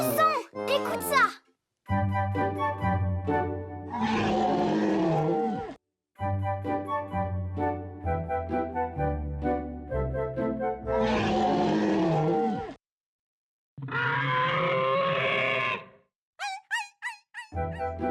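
A cartoon character's voice imitates monkey noises, alone, in repeated bursts of hooting, shrieking calls separated by short silences, ending with a few quick high yelps.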